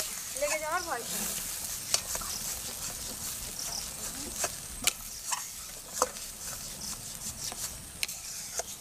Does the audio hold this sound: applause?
no